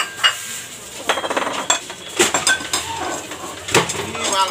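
Ceramic plates from a 27-piece dinner set clatter and clink as they are handled and set down, with sharp repeated knocks and scrapes near the microphone and a faint voice in the background.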